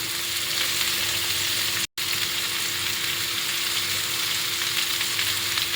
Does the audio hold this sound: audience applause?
no